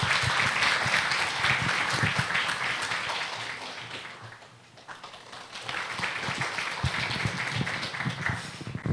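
An audience at an international conference on education and AI breaks into sustained applause to welcome the National Assembly Library director to the stage; the clapping is dense and steady, dipping briefly midway before swelling again.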